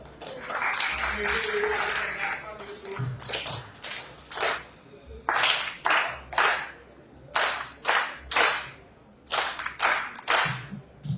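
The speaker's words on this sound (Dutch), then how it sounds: "Nogmaals een applaus voor de teller." Applause for a storyteller at a panel discussion during a Black Heritage Month event, starting as a dense patter of clapping, then thinning into a series of separate, rhythmic sharp claps spaced across the rest.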